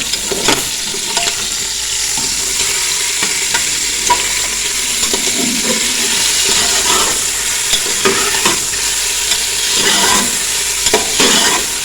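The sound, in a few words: chicken frying and being stirred for yakhni pulao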